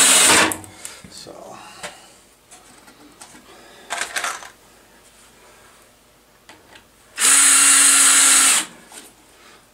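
A power drill drives screws into wood in short bursts, one long loud run near the end, with scraping and handling noises of wood between them.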